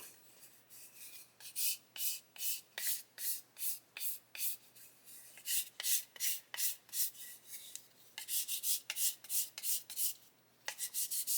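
A sanding stick is rubbed back and forth over a plastic 1/12 scale model car body in quick repeated strokes, a close dry rasping that comes in short bursts with brief pauses.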